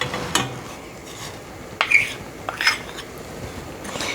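A utensil stirs ingredients in a cooking pot holding liquid, oil and brown sugar for a steamed rice cake, giving soft scraping and a few light clinks of metal against the pot.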